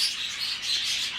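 Pet birds in a home aviary chirp steadily, a dense, bright twittering that carries on without a break at moderate volume, with no voices.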